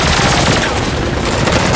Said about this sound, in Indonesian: Saat mendengar suara tembakan itu